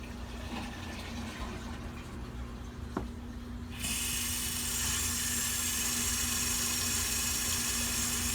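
Water runs from a tap in a house during -40 weather, a steady broadband rush that swells louder about halfway through as the flow opens up, heard alone without voices.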